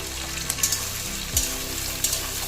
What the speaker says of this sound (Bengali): পেঁয়াজটা ভাজা হতে থাক।